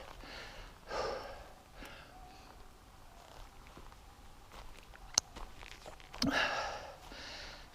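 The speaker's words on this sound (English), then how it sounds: "Sorry for the panting" Heavy, rhythmic panting breaths from a mountain biker on a trail near Flagstaff, Arizona, close and breathy, with a few louder gasping surges and scattered clicks and scuffs in between.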